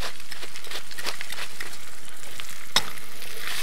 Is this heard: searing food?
yes